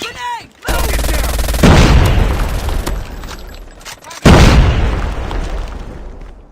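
A grenade explosion and gunfire in a team deathmatch shooter video game make two heavy, loud booming blasts with long decaying rumbles, the first preceded by a brief shouted voice.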